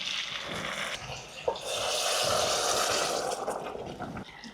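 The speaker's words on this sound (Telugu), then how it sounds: "నీళ్ళు ఇందులోనే పోసుకొస్తా, గిన్నె కడిగినట్టు అవుతుంది." Water pours steadily into a pressure cooker holding native country chicken for bagara. The rush is continuous and close for a few seconds, with a brief knock partway through.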